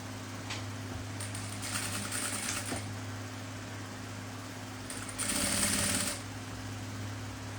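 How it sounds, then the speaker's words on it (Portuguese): A sewing machine stitches a zipper onto the main fabric of a double cosmetic bag. Steady mechanical stitching runs in bursts, two clear runs separated by a quieter pause, close and continuous, with no talking. "eu vou destacar aqui meu zíper e vou costurar aqui no meu principal"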